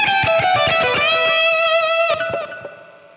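Electric guitar through a Line 6 Helix with no EQ, playing a quick distorted lead run that ends on a sustained bright note, close and loud, then fading out.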